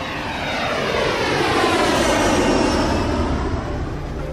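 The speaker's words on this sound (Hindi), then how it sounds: "16 मैजिस्टर फाउगा प्रशिक्षण विमानों ने हेड्सोर हवाई ठिकाने से टेक ऑफ किया" Sixteen 1950s French Fouga Magister jet trainers, armed with rockets, taking off from Hatzor air base, a loud sustained roaring engine rush that swells and sweeps past, with no voices.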